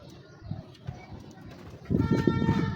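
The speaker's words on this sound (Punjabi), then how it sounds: "ਲੋ ਦੋਸਤੋ ਇਹ ਪੱਠੀ ਦੇਖੋ" A pigeon coos softly in short low bursts, then louder and closer calls come in the second half, with some faint handling noise around it.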